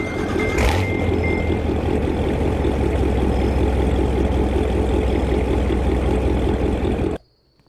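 A Corvette Z06 in Roblox starts with a short burst, then settles into a steady, loud, droning engine idle that runs unbroken for about seven seconds before cutting off abruptly.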